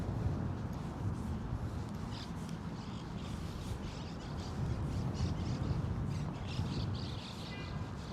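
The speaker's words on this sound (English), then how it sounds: "I hear them. The little monk parrots." Distant monk parakeets chatter and chirp in scattered bursts over a steady outdoor rumble of background noise in Brooklyn, New York City.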